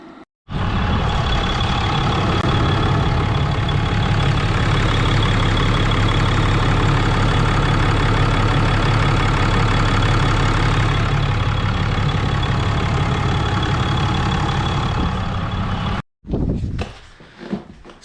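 A 6.7 Cummins diesel idles after a head gasket replacement with ARP studs and fresh fuel filters, a loud, steady, close rumble that holds evenly for about fifteen seconds before cutting off abruptly.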